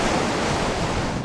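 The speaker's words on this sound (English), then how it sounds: "walking out into the crashing waves" Ocean waves crash on a shore where windsurfers walk into the sea, a loud continuous roar of surf mixed with wind rumble, close and steady throughout.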